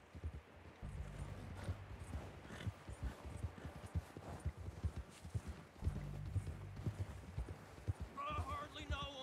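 Horse hooves galloping in the video game Red Dead Redemption 2, rapid rhythmic clip-clop thuds with the horse's breathing and a brief whinny near the end, heard under quiet background speech.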